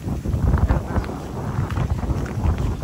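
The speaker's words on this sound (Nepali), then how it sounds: "कस्तो मजा हावा आएछ" Wind blowing across an open village field in the countryside, buffeting the microphone with continuous low rumbling gusts that stay loud throughout.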